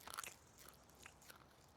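Cartoon dog crunching food at the seaside, a short burst of crisp bites near the start followed by a few fainter crunches, alone with no talk.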